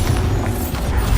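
A Bombarda explosion spell goes off in Hogwarts Legacy, a brief, heavy, low boom with a thick rumbling body that stays loud throughout.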